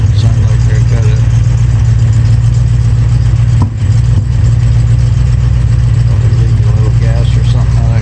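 A 1965 Mustang with new headers and manifold runs steadily at close range, a loud, even low rumble with faint irregular pops, under continuous talking.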